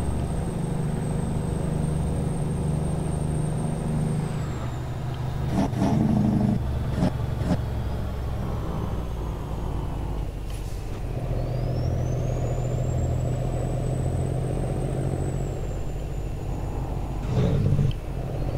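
A truck cruises along the road in the early morning, its engine a steady low drone under road rumble, with a few brief clunks and a passing whine from other traffic.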